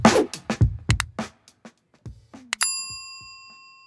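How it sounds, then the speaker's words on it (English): Bell struck on a talk show set, preceded by a few clattering knocks, then one bright ding that rings on and slowly fades, with no talking. "Go ahead and hit the bell, and let's move on"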